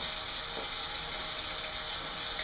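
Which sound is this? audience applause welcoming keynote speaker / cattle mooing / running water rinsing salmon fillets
running water rinsing salmon fillets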